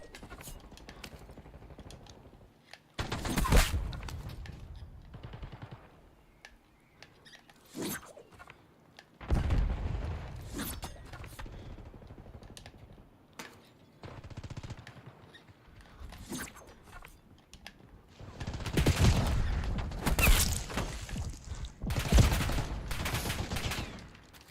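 Bursts of gunfire in a shooter game, several rapid volleys with sharp cracks spread across the stretch, loud clusters separated by quieter mechanical rattles and gaps.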